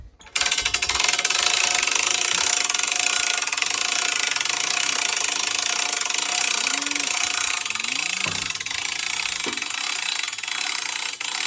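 Steady engine of an ATV four-wheeler pulling a bale unroller, a loud continuous mechanical clatter with a few rising whines, running alone without talk.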